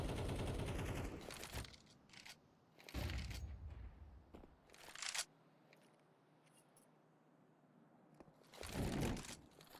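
Pistol shots ring out in a Counter-Strike match, several sharp cracks spaced irregularly across a quiet stretch of in-game ambience, fairly close and without voices over them.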